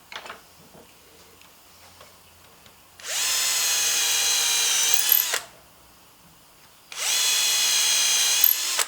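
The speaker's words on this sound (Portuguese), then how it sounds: "Fizemos um furo novo." A power drill bores a new hole while a clothes rack is assembled, in two loud, steady, high-pitched whirring bursts of about two seconds each, separated by quiet pauses with faint handling noises.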